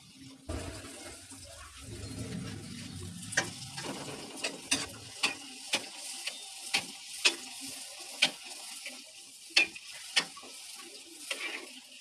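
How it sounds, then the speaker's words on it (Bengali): Pitha rice cakes frying in hot oil, a soft continuous bubbling sizzle with an early low rumble and a regular series of sharp clicks and taps from handling the pan. "এভাবে করে আমি বাকি সবগুলো পিঠা একটা একটা করে ভেজে নিব।"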